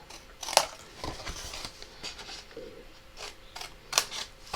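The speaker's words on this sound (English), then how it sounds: "I'm just going to go ahead and cut these off." Scissors snip through the folding flaps of a paper envelope box for a 6x6 inch Halloween box card, giving a few sharp, close cuts separated by quieter rustling and paper handling.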